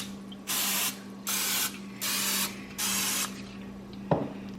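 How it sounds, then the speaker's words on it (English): Cooking spray is misted onto breaded chicken in four even hissing bursts of about half a second each, close up over a steady kitchen hum, followed by a single sharp knock. "I'm going to spray them with some cooking spray."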